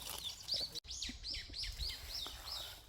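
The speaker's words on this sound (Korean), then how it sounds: "아주 새소리가 장난 아니네." Small birds sing close by in quick, repeated chirping phrases, with a few rising and falling tweets and faint rustling underneath.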